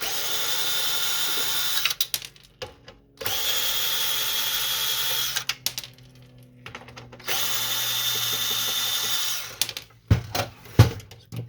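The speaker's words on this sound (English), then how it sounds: "Got that out, and then we're going to remove the screws." Power screwdriver backing screws out of an HP LaserJet 1020 printer during disassembly: two long steady whirring bursts of the motor, separated by clicks and handling noise, close and fairly loud, with a short clattering burst at the end.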